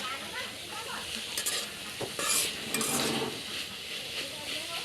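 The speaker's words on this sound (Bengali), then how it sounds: "এই যে ঢাকনাটা উঠে এরকম লাড়া দিয়ে দিতে হবে" Potatoes and thankuni leaves fry in a lidded pan, a steady close sizzle broken by metallic clatter as the lid lifts and the pan is shaken, with no voices.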